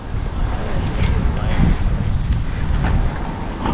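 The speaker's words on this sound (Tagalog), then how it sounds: "Malakas yung hangin." Strong wind buffets a microphone outdoors, a loud continuous rumbling roar that swells and eases without pause; no speech is heard.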